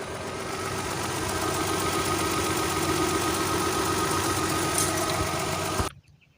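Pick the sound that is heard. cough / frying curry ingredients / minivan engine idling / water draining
minivan engine idling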